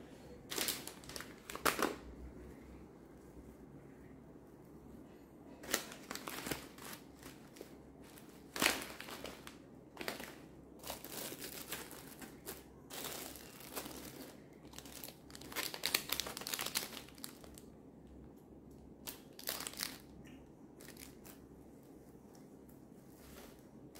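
Diwali gift baskets being packed, with wrapping crinkling and rustling in irregular bursts separated by quiet gaps, faint and close by, and no talking.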